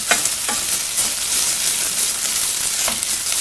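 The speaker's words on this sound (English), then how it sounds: "So now, I'm going to add some tomato paste to that. And I'm going to stir that in." Tomato paste being stirred into browned onions and garlic in a hot pan, a loud continuous close sizzle with a few soft spoon scrapes, no talking.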